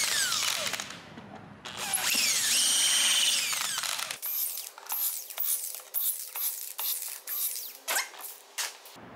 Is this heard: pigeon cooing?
no